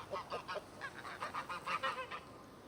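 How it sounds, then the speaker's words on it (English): Chickens and fowl in a Door Kickers 2 game level, a run of rhythmic honking, clucking calls repeated about a dozen times at moderate volume, with no talk over them. "And chickens, apparently."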